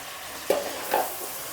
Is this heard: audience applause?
no